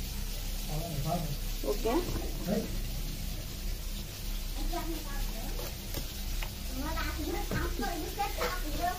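Fish sizzles steadily as it fries in a pan in a home kitchen, with a soft continuous hiss running under frequent nearby talk and a voice.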